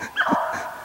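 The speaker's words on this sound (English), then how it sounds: "Dogs are up there in the road, here comes the hare." One short bark or yip from a hunting dog chasing a hare on a cold track, out on a road, heard a little distant against outdoor background noise.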